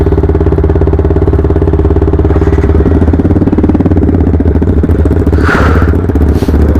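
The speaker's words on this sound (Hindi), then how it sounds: "इनकी बाइक में लगा हुआ है देखो एक्रोपोविक" A motorcycle fitted with an Akrapovic exhaust, its engine running loud and close with a rapid, throbbing low pulse that holds steady throughout, a brief lighter clatter near the end.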